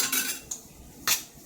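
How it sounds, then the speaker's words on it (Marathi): A metal sieve being handled while oil is rubbed on it, giving three sharp metallic clinks and scrapes, close and brief, with quiet gaps between. "हे बघा मी चाळणीला असं तेल लावून घेते"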